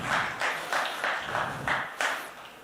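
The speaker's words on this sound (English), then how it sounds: "Round of applause" A crowd at a business talk claps in steady unison, about three beats per second, loud and close, with no one speaking.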